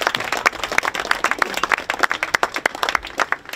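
A crowd claps at a maypole raising in Mautern an der Donau, Austria. Distinct hand claps ring out in a brisk, uneven patter that stays steady, then thins slightly near the end.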